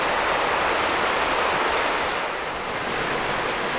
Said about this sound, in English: the rain started pouring down even harder just right outside